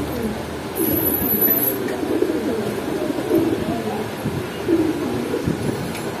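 Pigeons cooing inside a cage at a pigeon shop in Kaptan Bazar market, soft low repeated coos under a busy, noisy market background with faint distant voices.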